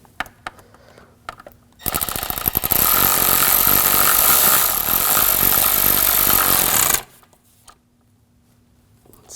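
A clamp on the intake duct of a 2007-2013 BMW 328i 3.0L inline-six is tightened: a loud, dense mechanical buzz runs for about five seconds between quieter stretches of light handling clicks.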